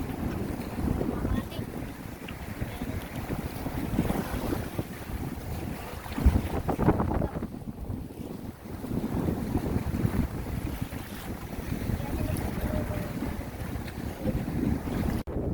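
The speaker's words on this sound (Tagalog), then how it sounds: "Hirap, malakas ang alon at ang hangin." Strong wind roars across the microphone while large waves slosh and slap against a small boat, a steady rough noise with people talking faintly underneath.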